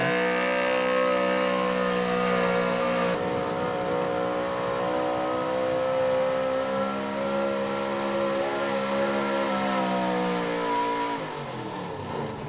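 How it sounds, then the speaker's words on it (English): The Fredneck pulling truck, driven by Dave Miller, roars at full throttle down the track at a truck and tractor pull, a loud sustained engine howl with a sharp shift early on, droning steadily before easing near the end. "Here's your first puller, Dave Miller, the Fredneck truck. Let's see what he can do."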